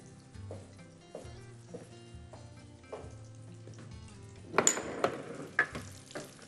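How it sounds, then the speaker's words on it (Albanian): A pan full of meatballs cooks with a soft sizzle under intermittent clinks and scrapes of utensils, and a louder burst of clattering and spattering comes near the end. "Një tigan plot me qofte."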